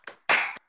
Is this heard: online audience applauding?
yes